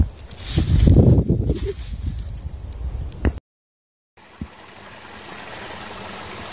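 Water rushing through a channel carved in a large rock slab along a trail, a close, gurgling flow with splashy bursts, then a brief cut to silence before a softer, steady flow resumes.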